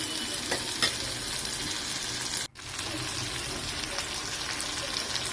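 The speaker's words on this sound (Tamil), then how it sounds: "நல்லா வதக்கி விட்டுக்கிட்டே இருங்க." Onions and spices sautéing and being stirred in a pan for a Tirunelveli-style cowpea tamarind curry, with a steady close sizzle and scraping, a brief pause in the middle, and no talking.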